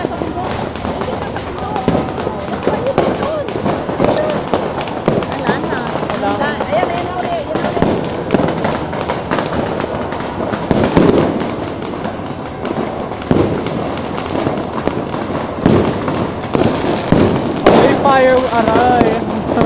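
New Year fireworks in the Philippines crackle and pop continuously in a dense, loud barrage, with scattered sharper bangs and voices chattering underneath throughout.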